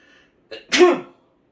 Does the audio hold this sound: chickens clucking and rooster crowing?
no